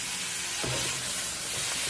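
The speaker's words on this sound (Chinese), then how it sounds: "然后继续大火给它煸炒" Bean sprouts stir-fried over high heat in a wok, a loud dense sizzle and hiss with a soft scrape of the spatula, close and continuous.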